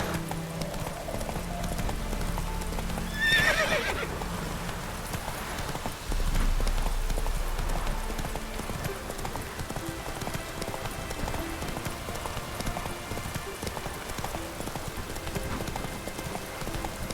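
Roach, a horse in the video game The Witcher 3, gallops with a steady, rapid clip-clop of hooves throughout, fairly quiet, with a brief whinny near the start and occasional voices.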